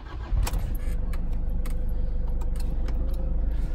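Metal car keys for a 2008 vehicle jangle in short, bright clinks over a steady low car engine rumble, close up and fairly loud.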